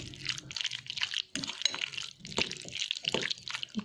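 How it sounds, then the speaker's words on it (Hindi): Yogurt being stirred in a bowl for samosa tikka: wet, squelching and sloshing stirs in quick irregular strokes, close up and continuous for a few seconds. "दही को मिक्स कर"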